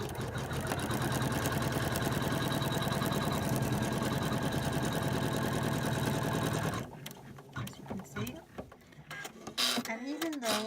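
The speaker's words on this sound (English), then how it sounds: "Then I stitch the tack down stitch." A sewing machine runs steadily stitching a tack-down stitch on ordinary white linen, a continuous dense mechanical whir for most of the clip before stopping, followed by quieter handling sounds.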